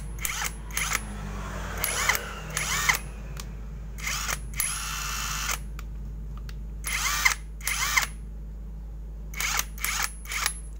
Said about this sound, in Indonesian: kita coba ya membuka baut roda ini menggunakan kunci sok 24